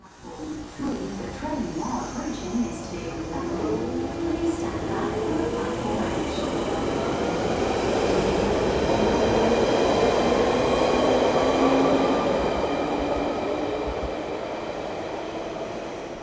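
Class 350/1 electric multiple unit running on the WCML South route in Train Sim World 6, a steady loud rolling rumble with rising traction motor whine held for the whole stretch, no talk over it.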